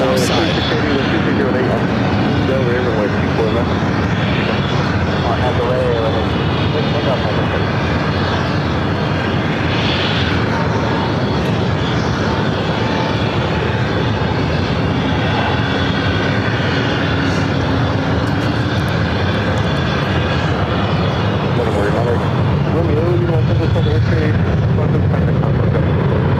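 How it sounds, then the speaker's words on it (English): An SAS airliner taking off from the south runway at LAX, a sustained, heavy jet engine roar swelling and rumbling for the whole stretch, with voices talking over it. "SAS taking off on the south side."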